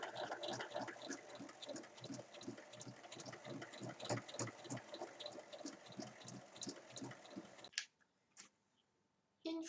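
Domestic sewing machine stitching a fabric makeup pouch, a close, steady rapid mechanical chatter of the needle that runs for several seconds, then stops abruptly, followed by a brief quiet handling pause and a short restart.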